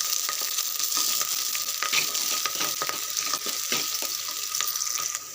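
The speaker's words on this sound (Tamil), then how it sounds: "இதை வந்து வதக்கிக்கலாம்." Onion, green chilies and curry leaves sautéing in oil in a pan for a Tamil chicken curry, a continuous bright sizzle with occasional stirring scrapes and clinks, close and steady throughout.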